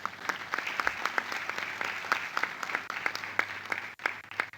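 Audience applause at a ceremony commemorating 30 years of the National Constitution, steady clapping with a few sharper near claps standing out, lasting the whole moment at moderate loudness.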